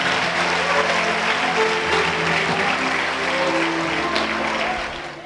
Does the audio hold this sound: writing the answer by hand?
no